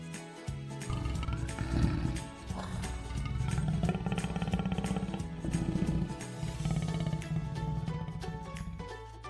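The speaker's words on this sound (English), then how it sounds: "Tiger." A tiger roars and growls in repeated deep, rumbling bursts that continue steadily for several seconds, loud and close with a dense, noisy texture.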